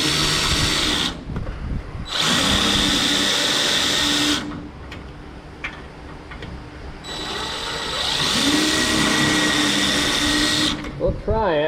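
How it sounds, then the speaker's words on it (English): A drill with a countersink bit cuts into the steel roof structure of a 1967 Chevelle, giving three loud, sustained whining bursts separated by short pauses. "I'm gonna try just a countersink and see if I can get away with that versus drilling a whole hole."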